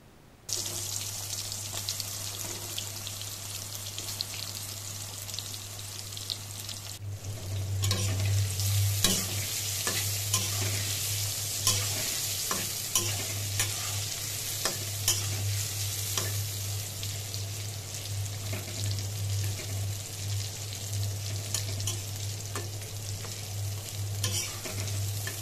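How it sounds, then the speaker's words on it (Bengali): Eggplant pieces sizzle and fry in hot oil for a long stretch, with a steady loud crackle, occasional stirring clatter and a low continuous hum underneath. "এবার আমি এগুলোকে তেলে দিয়ে ভেজে নিব।"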